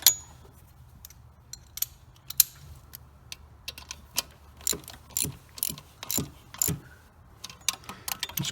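Ratchet tightening nuts on an EGR valve, heard as a series of short, close metallic clicks in scattered bursts, a few quick strokes at a time, with no talking.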